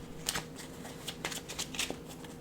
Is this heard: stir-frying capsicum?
no